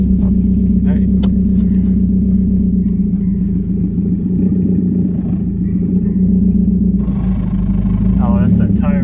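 Car tire rubbing against the fender while driving, heard as a steady low rumbling drone with rhythmic scraping that grows louder near the end, beneath cabin noise and a voice talking.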